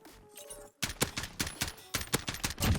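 M4 rifle fire in Call of Duty Modern Warfare: short rapid bursts of automatic gunshots, loud and punchy, following a brief quieter lead-in.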